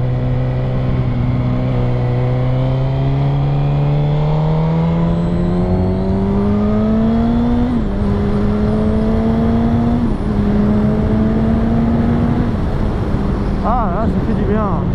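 A motorcycle on cold tyres accelerates in short bursts. Its engine note climbs steadily, then steps up again several times, loud and close throughout.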